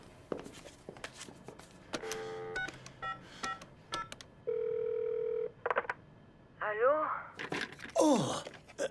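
A telephone in a TV drama is dialed with a run of rapid keypad tones, followed by a steady ringing tone and then warbling electronic ring bursts, with faint talk and movement between them.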